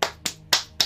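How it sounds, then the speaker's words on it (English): Four slow, deliberate hand claps ring out alone at an even, unenthusiastic pace, each sharp and bright with a short decay, sounding sarcastic in tempo. "It's a very sarcastic clap."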